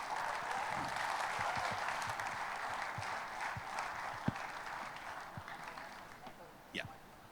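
Audience applause at a celebrity launch event, a steady wash of clapping from a crowd, loud at first and slowly thinning toward the end, with scattered louder claps and faint voices underneath.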